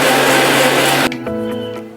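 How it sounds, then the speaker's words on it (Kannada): A kitchen mixer grinder whirs loudly, blending lemon juice with water, then cuts off, leaving a short fading hum and rattle as the motor spins down. "ಈ ಸ್ವಲ್ಪ ನೀರು ಹಾಕ್ಕೊಂಡು ಈಗ ನಾವಿದನ್ನು ಮಿಕ್ಸಿ ಮಾಡ್ಕೊಳ್ಳೋಣ."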